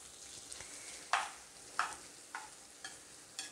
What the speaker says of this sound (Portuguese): Continua mexendo para ela ir fritando.